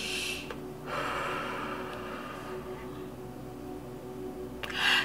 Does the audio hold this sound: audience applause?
no